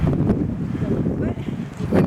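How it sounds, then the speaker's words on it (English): Strong wind buffets the microphone outdoors on an Arizona trip, a loud low rumbling roar with gusty surges throughout, and a voice speaks briefly over it. "Windy enough for you?"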